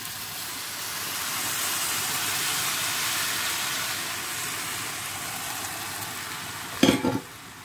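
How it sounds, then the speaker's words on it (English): A pot of Nigerian jollof rice fries with a steady broad sizzle and hiss, then a sudden louder burst of spitting and bubbling near the end as tomato stock is poured in. "So I will be putting this tomato juice or tomato stock"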